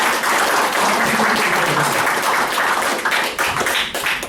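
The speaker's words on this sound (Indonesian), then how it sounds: "mari tepuk aplaus yang sangat luar biasa untuk" Loud, dense audience applause fills a corporate presentation hall, sustained steadily with scattered claps and a slight fade toward the end.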